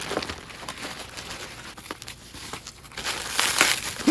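Crinkling and tearing of a package from a music store being ripped open, close and continuous, with louder rustling bursts near the end.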